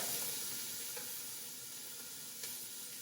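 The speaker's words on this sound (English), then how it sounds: "Hear that sizzle? You know the temperature is right." Diced yellow onion sizzles steadily in hot oil, a continuous crackling hiss with faint pops and no talking.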